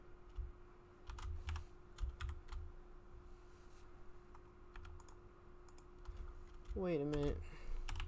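A code is typed on a computer keyboard, bursts of quick close-up key clicks spaced irregularly over a faint steady hum, followed by a brief spoken remark at the end.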